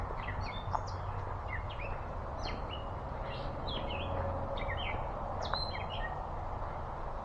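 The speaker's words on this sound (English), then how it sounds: "The birds are singing." Birds singing beside a lake at Rock Cut State Park, several scattered chirps and short song phrases at moderate distance over a soft, steady outdoor background hum.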